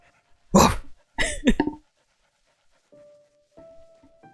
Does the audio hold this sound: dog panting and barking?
yes